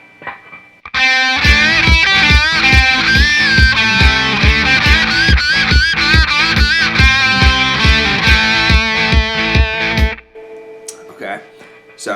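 A distorted electric guitar plays a rhythm, a chugging, steady pattern with bends under a heavy effects tone that is loud and close, then stops abruptly and leaves faint room noise.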